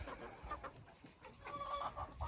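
Old hens cluck in a henhouse enclosure, a soft cluster of several birds murmuring close by, with a few clearer clucks toward the end.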